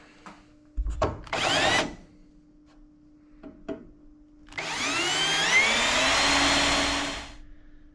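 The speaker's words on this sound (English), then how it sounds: "I forgot to drill my holes earlier when I had the chance. So need to do that now" A power drill whines in short bursts, then runs longer with rising and falling pitch as it bores holes in the hood of a 1969 Pontiac Catalina wagon, close and loud.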